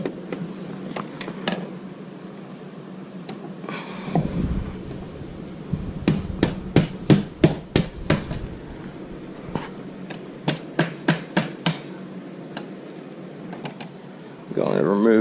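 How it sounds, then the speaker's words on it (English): A rubber mallet taps a long extension to drive the rod through a power recliner mechanism, with a burst of about a dozen sharp, close knocks in the middle and scattered taps before and after over a steady background hum. "I'm just going to take my long extension here, a rubber mallet. I'm just going to start tapping it through."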